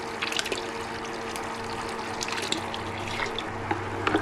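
Water drains steadily from a tankless water heater being flushed, a continuous running, splashing flow like a tap filling a sink, close by and alone with no talking.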